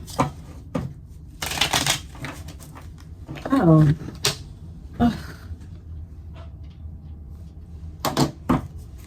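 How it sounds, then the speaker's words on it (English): Tarot or oracle cards being shuffled and pulled for a reading, giving several bursts of riffling and slapping card noise spread across the clip, moderately close, with brief voice sounds in between. "we're gonna pull some cards to see"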